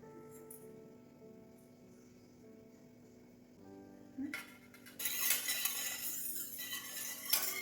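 A utensil stirs sugar and agar-agar powder in a cooking pot, giving soft scraping and light clinking over a quiet kitchen background. The sound grows louder and busier toward the end.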